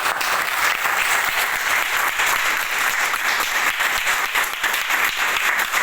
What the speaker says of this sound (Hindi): जिनको विश्वास है एक बार तालियां बजा दीजिए।